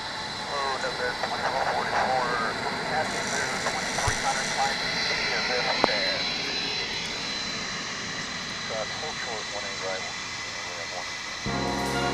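A UPS Boeing 757 jet departing DFW International Airport, its engines a steady broadband roar sustained throughout, with a voice talking over the aircraft noise.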